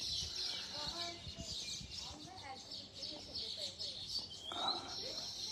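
Many small birds chirp and tweet busily around nests they built, their bright calls overlapping continuously at a moderate distance while someone talks softly underneath.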